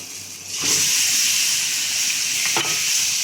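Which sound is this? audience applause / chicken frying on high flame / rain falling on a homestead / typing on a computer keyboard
chicken frying on high flame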